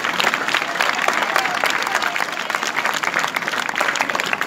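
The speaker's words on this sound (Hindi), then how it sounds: "मैं चाहता हूँ कि सबसे पहले आप सब लोग ज़ोरदार तालियां से अभिनंदन करें उन लोगों का जिन्होंने यहाँ पर परफॉर्म किया" An audience at a school annual day function claps in dense, sustained applause, loud and continuous, with crowd noise mixed in and no clear speech.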